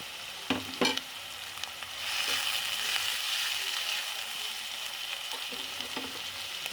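Onions, tomatoes and green chillies fry in a pan for a lentil dish, giving a steady close sizzle that swells after a couple of sharp stirring clatters at the start, with no talking.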